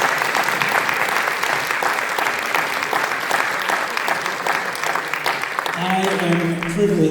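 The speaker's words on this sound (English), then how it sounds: "So let's give them a round of applause." A reunion audience at a chorus event breaks into loud, dense, sustained applause that fills the room, and a voice begins speaking over the tail end as it continues.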